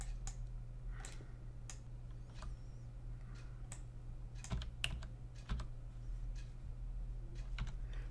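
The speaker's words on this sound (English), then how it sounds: "I'm using the Q and the E keys to kind of set the view" Computer keyboard keys, Q and E, tapped while setting a 3D view in Enscape rendering software: scattered sharp clicks, some single and some in quick pairs, fairly close over a steady low electrical hum.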